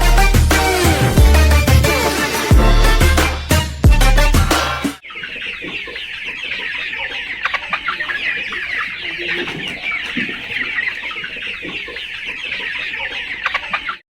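Loud music plays for about five seconds, then broiler chickens on a poultry farm cluck and chatter continuously as a busy flock, fairly close and steady.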